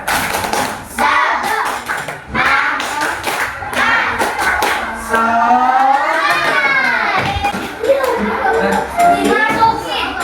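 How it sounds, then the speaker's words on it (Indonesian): Schoolchildren in a second-grade maths class do the rhythmic tepuk semangat clap together, bursts of patterned hand claps mixed with chanting voices and a sung, rising-falling tone, loud and close. "Yuk, kita tepuk semangat sama-sama supaya kita semangat ya."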